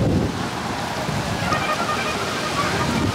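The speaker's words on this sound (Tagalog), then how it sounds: "Ang lakas ng hangin." Strong wind roars steadily at an outdoor Tour de France cycling race in Europe, with a heavy, rumbling low end and broadband rushing noise, continuous and loud throughout with no talking.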